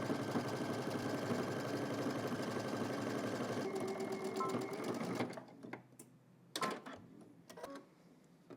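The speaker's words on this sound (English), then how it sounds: "We're going to stitch down the outside seam and then the inside seam." A sewing machine runs steadily, stitching the outside seam of a pair of shorts at a 5/8-inch allowance, then stops about five seconds in, leaving a few sharp clicks and handling taps.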